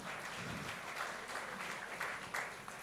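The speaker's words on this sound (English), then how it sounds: "Can we have a round of applause for our dignitaries?" An audience claps for dignitaries at an awards ceremony, a faint, distant round of scattered applause held steady throughout.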